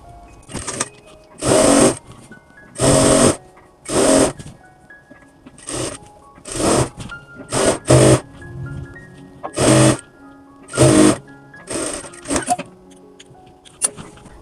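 Electric sewing machine stitching churidar pajama fabric in short repeated bursts of fast motor whirring, each burst a second or so long, separated by brief quiet gaps with faint handling noise.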